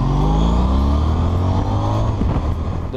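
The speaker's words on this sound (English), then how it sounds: "The V4 engine has power everywhere, gobs of torque in any gear." A 2014 Honda CTX1300's V4 motorcycle engine revs and accelerates close by, its loud, deep growl climbing steadily in pitch with a rough, powerful roar.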